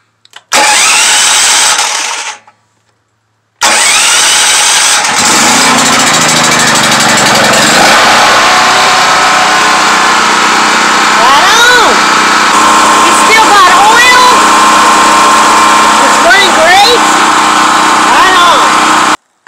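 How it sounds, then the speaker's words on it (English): A homestead generator, started at half choke, catches after a brief pull and then runs loud and steady close by, its buzzing drone filling the rest of the clip while birds chirp faintly in the woods behind. "I might as well start the generator up, because you got to start it every once in a while"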